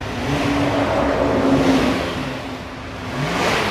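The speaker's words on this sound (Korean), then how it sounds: "자, 시동 걸고 훅가시 해봐요." Car engine in cold winter weather, with moisture frozen in its system, revving up with a steady loud roar that swells, dips around the middle and rises again, close by with no talking.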